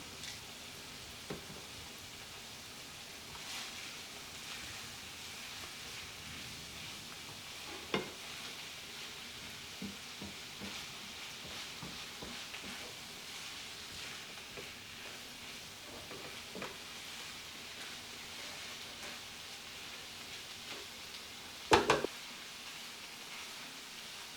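Garlic powder being stirred into a Mexican rice skillet, with a low, steady sizzle throughout and scattered faint spoon scrapes and clinks, one louder clatter near the end.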